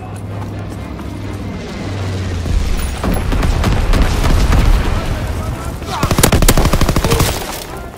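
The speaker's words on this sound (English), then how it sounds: "Enemy bomber! Incendiary bombs incoming!" Dense booms and rapid gunfire rattle through a WW2 video game battle as an enemy bomber drops incendiary bombs, loud and continuous, with heavier blasts around the middle and a strong burst near the end, and voices mixed in.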